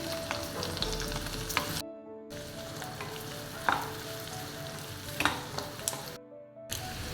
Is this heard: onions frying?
yes